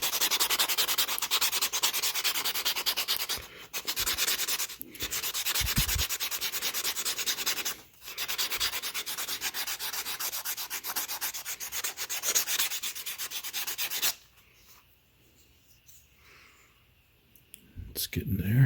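Wood being hand-sanded with a 60 grit sanding brick for a DIY couch sleeve: steady, close, rasping strokes run continuously with two brief pauses, then the scraping stops and a quiet stretch follows before a last short burst.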